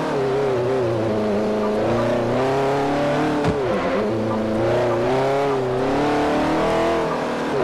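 Saleen S5S race car engine in the Forza 4 racing game, Masters class, droning steadily and loudly with rising and falling revs throughout and one brief dip midway.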